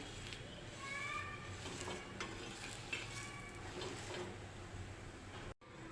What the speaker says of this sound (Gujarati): હવે આપણે ફેરવી ફેરવીને બંને બાજુ શેકી લઈશું ફરી પાછું ફેરવી લઈશું